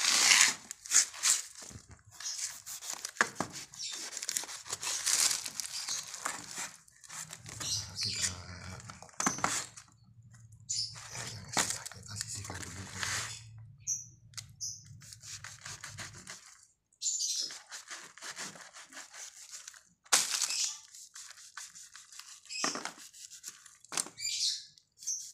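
A bifalo jackfruit is pried and broken apart by hand, giving close, crunchy tearing and crackling bursts that come in irregular clusters with short pauses between them.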